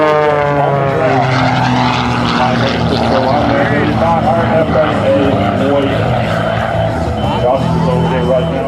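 A CAP 580 aerobatic airplane tumbling end over end at the Wings Over Wayne airshow in 2011 gives off a steady, loud propeller engine drone with shifting pitch. An announcer talks over it on a public address system throughout.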